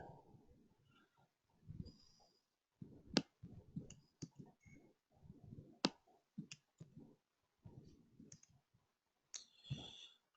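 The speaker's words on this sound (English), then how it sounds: "I'm typing here, copying a few and trying to put them here" Irregular bursts of clicking on a computer keyboard during an online training session, quiet and close with uneven pauses between clusters of keystrokes.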